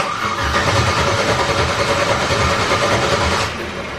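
A car engine cranks steadily while the fuel pump runs, a loud, continuous close whirring grind that eases off slightly just before the end, with no speech.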